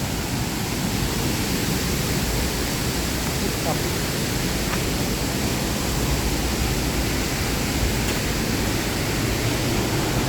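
Steady, dense rushing of a muddy, rain-swollen waterfall in Thailand, a constant broadband roar with no breaks, fairly loud and close.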